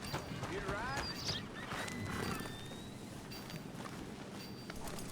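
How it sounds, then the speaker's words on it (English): In Red Dead Redemption 2, horse hooves clip-clop and a horse whinnies amid game ambience, with people talking over it and a rising whistle-like tone in the background. "Someone else's horse."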